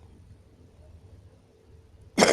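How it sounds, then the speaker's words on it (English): Quiet low room noise, then one sudden loud cough bursts in near the end, close and harsh. "sorry, the cough was very loud"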